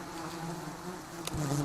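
Honey bees buzzing at a nest, a steady low droning hum of many wings close by, with a louder bee passing near the end.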